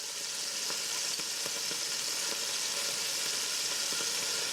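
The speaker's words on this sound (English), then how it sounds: "And then as this browns out, I will remove it from the pan" Beef pieces for a stew sizzle steadily in a hot pan while browning, giving a continuous bright frying hiss with faint occasional pops and stirring sounds, close and moderately loud with no talking.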